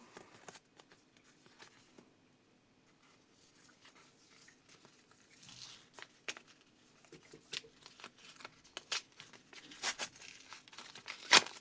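Paper surprise packet being ripped and crinkled open by hand, a quiet start building to louder bursts of tearing and rustling near the end, with no talking.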